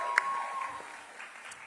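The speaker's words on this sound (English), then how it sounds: "Let's give the band another round of applause." Applause for a school band at a middle school Decision Day event, a steady wash of clapping from an indoor crowd that holds moderately loud throughout, then slowly thins and fades toward the end.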